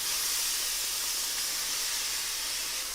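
Chopped tomatoes and a thinly sliced onion hit a pan of browned cumin seeds, giving a steady, close, bright sizzling hiss that holds evenly with no pauses.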